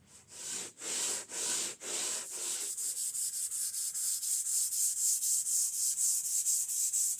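Zebra wood sanded by hand with coarse 80 grit sandpaper for a Les Paul–style guitar body, steady rhythmic back-and-forth rasping strokes, close and clear with no talking, the stroke pattern smoothing into a continuous rub partway through.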